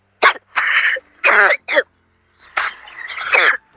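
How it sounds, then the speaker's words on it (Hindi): A few harsh coughs and throat-clearing bursts come close up, separated by brief pauses. "सॉरी, खांसी आ गई मेरे को"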